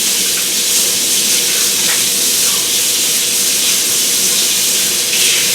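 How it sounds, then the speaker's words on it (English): Hands washed under a running kitchen tap, a loud, continuous broadband rush of water spattering close by for the whole stretch, with no talking. "So let me wash my hands"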